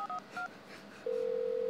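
A phone keypad dials several short beeping touch tones in quick succession, then a steady tone holds on. The sound is close and clear, with no talk.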